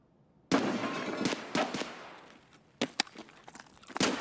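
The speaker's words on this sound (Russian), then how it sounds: "Я сейчас стреляю в него." Gunfire in the shooter game Escape from Tarkov cracks out in a sharp opening burst followed by scattered, irregular shots, some clustered in quick pairs, fairly close and punchy with quieter gaps between.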